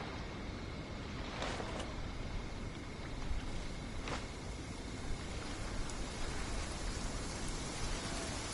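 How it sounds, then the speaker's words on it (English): Steady rain in the Genshin Impact game world, a dense, even hiss of falling water with faint patter, soft and continuous throughout with no voices. "It's raining again."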